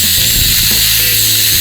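A power tool cuts the spark arrestor exhaust screen off a Stihl SR 430 or SR 450, giving a loud, close, continuous high-pitched grinding whine that holds steady throughout.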